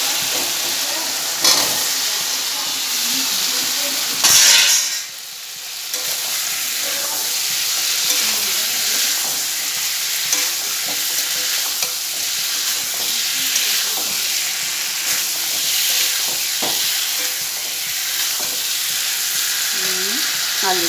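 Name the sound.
potatoes frying in hot oil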